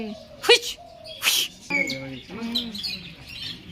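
Lovebirds chirp and squeak in a few sharp, high bursts, close by, with some background noise between the calls.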